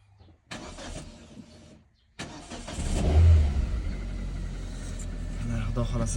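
A Chevrolet Spark engine cranks and catches after a new fuel pump is fitted, settling into a steady close idle rumble after a short silence and a click, with people talking briefly beforehand.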